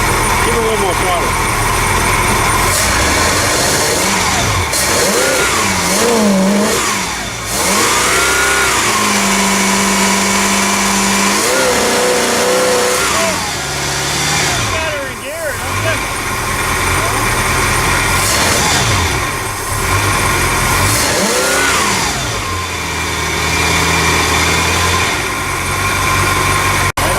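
Mercruiser 302 engine in a 1975 Silverline 233 boat, running loud and close, rising and falling as the throttle is opened and eased, with people talking over it throughout.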